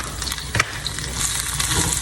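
Onion and green chili fry in a very hot pan, giving a close, steady sizzle with a short stirring scrape partway through. It is brief and continuous, with no one talking.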